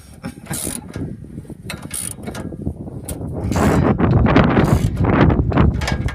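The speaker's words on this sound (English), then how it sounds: "This one you have to have a swivel and a short socket, 15mm to get to it." A ratchet fitted with a 15mm short socket and swivel works a rusty bolt loose, its rapid clicking pawl heard close and loud in bursts that build to a sustained grinding ratchet run, with some wind noise.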